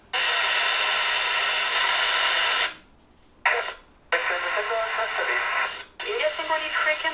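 Aviation band reception on an Icom ID-52E Plus handheld transceiver: bursts of radio voice transmissions with a squelch gap, loud and close, with brief pauses between transmissions.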